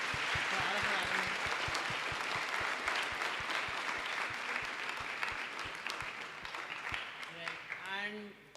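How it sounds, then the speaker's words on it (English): A crowd claps in sustained applause that gradually thins and fades, with a voice starting to speak as it dies away. "Can we have a round of applause once for all of"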